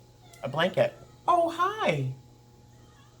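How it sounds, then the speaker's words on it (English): A house cat gives a small crying meow asking to be cuddled, two short mews followed by a longer drawn-out one, close by, with a person speaking briefly around it. "So there's a particular cry he makes, a little meow, that says, I want to be loved and cuddle me."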